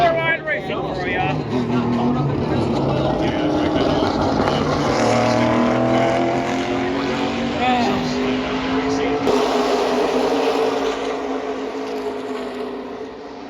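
Xfinity Series stock cars run four wide at Talladega, their engines a steady, loud roar that swells and fades as the pack passes, with a commentator's voice running over the noise throughout.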